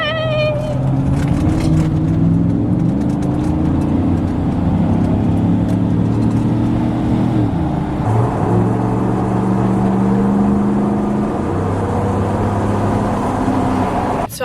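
A Chevrolet Silverado truck pulls onto the freeway under hard acceleration, its engine note rising through the gears in a loud, close cabin drone with a shift partway through and road noise beneath.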